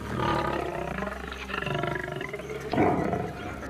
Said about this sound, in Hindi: शेर की दहाड़ने की आवाज बहुत दूर तक सुनाई जा सकती है